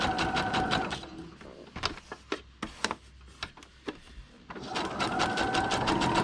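A sewing machine runs a regular stitch through a book page, giving a fast, even mechanical rattle that pauses for a few separate clicks and then resumes its steady run, close and moderately loud.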